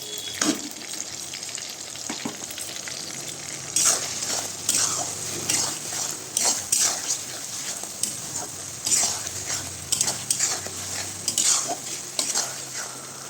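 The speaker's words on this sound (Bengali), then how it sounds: "মশলাটা দিয়ে আমি ভালোভাবে কষাবো" Mutton being stir-fried in a pan with ginger, garlic and coriander paste for a Sunday mutton curry, with a steady close sizzle and repeated scraping stirs of a spatula through the pan, no talking.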